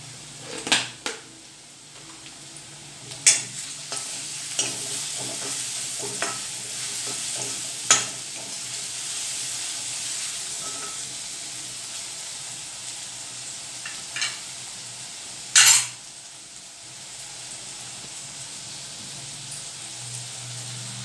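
Sliced onion frying with a pinch of salt in a pan, a steady soft sizzle throughout, broken by occasional scraping clicks of a spoon stirring against the metal.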